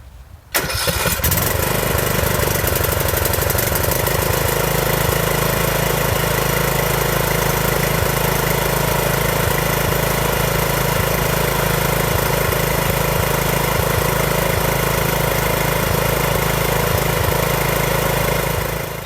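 A lawn tractor engine converted to run on E85 ethanol flex fuel starts abruptly, then idles loudly and steadily for about eighteen seconds, with a slight stutter in its running.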